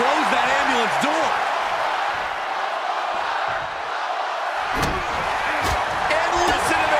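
The virtual arena crowd in WWE 2K25 keeps up a loud, steady roar through an intergender wrestling match, with occasional heavy slam thuds and commentators talking over it.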